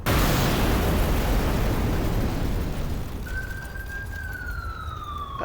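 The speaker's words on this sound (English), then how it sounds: "If you're here to stop that explosion" An explosion in the video game Old Skies bursts loudly and rumbles on, fading over several seconds before a thin whining tone rises and lingers.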